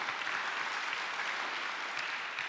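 A church congregation in Bali claps in a steady, even wash of applause, moderately loud and unbroken.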